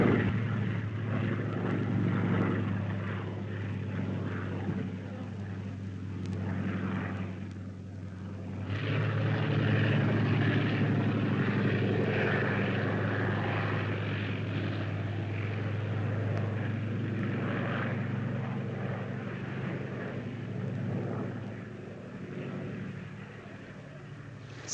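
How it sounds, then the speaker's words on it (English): The propeller engine of a Fieseler Storch scouting plane drones steadily overhead, a continuous loud buzzing hum that swells partway through and holds for the whole stretch, with no talk over it. "Scouting plane. Diesel Storch."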